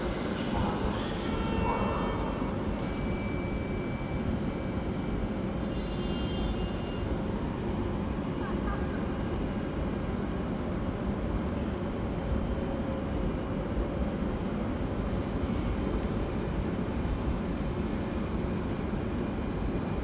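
Train pulling into Lisbon Oriente station, a steady low rumble and roar of the arriving service filling the platform continuously, fairly loud, with faint background noise and no clear speech.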